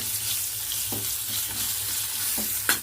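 Raw mango pieces and green chillies stirred in a hot pan, a steady sizzle of frying running throughout with a few soft scraping strokes of the spoon against the pan.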